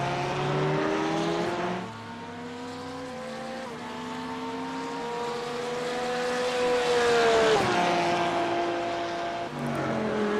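Race cars of the JNR Craftworks Contender Series lap Daytona, engines droning steadily in several overlapping tones that rise and fall as cars pass, a louder pass sweeping by near the middle, no talk.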